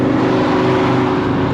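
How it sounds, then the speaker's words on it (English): A Scion FR-S sports car pulling up alongside, its engine a loud, close, steady drone for a moment. "we got an FRS pulling up beside me"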